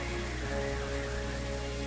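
Steady rain in the Pokemon Black video game, a dense even hiss of falling drops with a low droning layer underneath, constant and unbroken for the short stretch, no voices.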